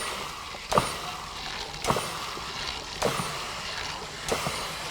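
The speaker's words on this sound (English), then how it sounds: "To actuate and turn the pump on, we'll dial up about 50 psi of air pressure on the regulator." Compressed air drives an air-operated diaphragm pump set to about 50 psi at the regulator, giving four sharp pneumatic exhaust bursts at roughly one-second intervals over a low steady hiss.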